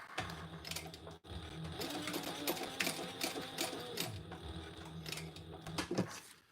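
A sewing machine stitches a Ciana sewing project at a lengthened stitch setting, running in a rapid continuous whir with one brief stop early on, fairly faint and without talk.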